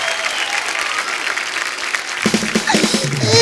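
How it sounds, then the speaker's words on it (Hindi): Studio audience applause on The Kapil Sharma Show, a TV comedy show: steady loud clapping from a large crowd that swells near the end. "जोरदार तालियां पाजी प्लीज"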